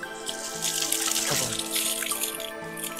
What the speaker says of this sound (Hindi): तो ये और ये गर्म पानी का स्रोत है